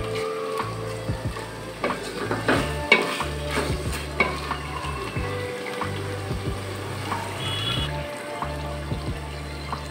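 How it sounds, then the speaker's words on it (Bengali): Chicken pieces for dum biryani braising in hot oil in a pot, a loud continuous sizzle broken by repeated spoon stirs and scrapes against the metal, close up and without voices. "আমাদের মাংসটা 5 মিনিট কষানো হয়ে গিয়েছে"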